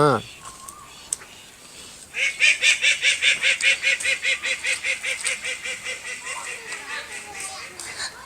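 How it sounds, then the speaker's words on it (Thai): Ducks on a duck farm at a campground in Nakhon Nayok, Thailand, let out a rapid run of loud, regular quacks that slowly fade, preceded by a quieter moment with a few faint sounds. "ฟาร์มเป็ด เลี้ยงเป็ดไว้นะครับ"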